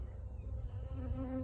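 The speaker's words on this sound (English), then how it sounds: "But the bees are very angry" Angry honey bees buzzing in a dense, close, steady drone near an open hive box, several pitches overlapping and rising slightly, with no talking.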